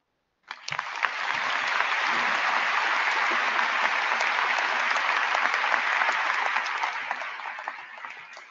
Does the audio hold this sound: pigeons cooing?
no